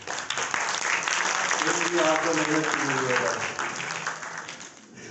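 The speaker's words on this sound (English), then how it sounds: "Team A के लिए clapping करें" Audience clapping for Team A at a quiz competition grand final, a steady wash of applause lasting several seconds while a voice speaks over it before it fades.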